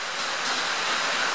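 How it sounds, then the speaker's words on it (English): Steady heavy rain roars in a dense, even hiss, drumming on a shed roof, with no voices. "Well, you have to excuse the rain."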